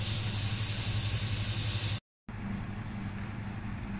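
Refrigerant hissing loudly and steadily from a yellow charging hose being purged during refrigeration system recovery, cut by a brief silence before the broad hiss resumes.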